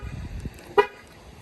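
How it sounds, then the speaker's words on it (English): A Nissan Altima from the 2019–2023 generation gives a single short, sharp horn chirp as the doors lock, close by and standing out from quiet surroundings. "Locking your door."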